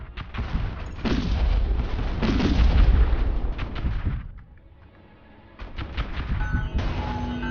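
Missile fire and explosions in the space strategy game StarDrive 2, a dense rolling barrage of booms and blasts that eases off briefly, then resumes with sharp repeated hits.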